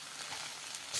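Cashew nuts roast in a wok with a soft, continuous sizzle and light crackle, faint and alone without speech.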